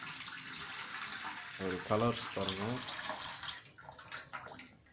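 Water fills from a tap as a steady rushing stream, with a person speaking over it partway through before the flow continues under quieter talk.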